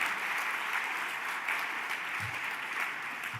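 A conference audience in a large hall gives Mark Paganini a quick round of applause, steady dense clapping that holds at an even level throughout.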